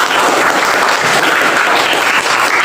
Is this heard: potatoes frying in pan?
no